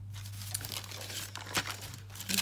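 Parchment baking paper crinkles and rustles in a crafting setting, the crackling bursts coming close and irregular over a steady low hum, with sharper crunches near the middle and at the end.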